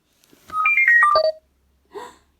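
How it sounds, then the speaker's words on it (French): A telephone rings with a short melodic electronic tune of rising and falling tones lasting about a second, then a brief fainter tone after a pause, clear and alone against silence. "Brusquement, le téléphone sonne"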